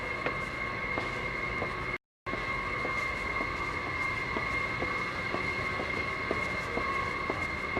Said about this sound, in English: I'll show you the incoming train.